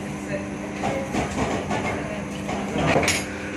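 Train 06549 pulls into Arsikere junction on a Bengaluru to Hubli run. A steady low rumble of rolling carriages carries light clattering, with indistinct voices underneath.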